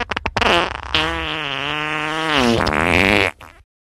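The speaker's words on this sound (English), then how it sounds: "Looks like someone is asking for a colossal size fart attack." A long, loud comedic fart from an animated movie, opening with a few sputtering pops and then stretching into a sustained, wavering tonal blast that bends in pitch before cutting off abruptly.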